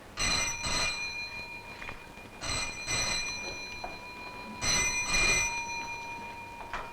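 An old-fashioned telephone bell rings in bright metallic double bursts, repeating three times with quiet gaps between, clear and close with no voices.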